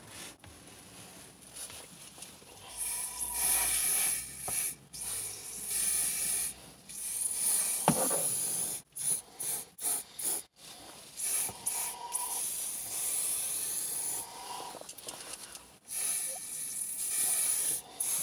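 Würth silicone spray hissing in light, intermittent bursts onto a car's plastic interior trim, close up, with short pauses between squirts.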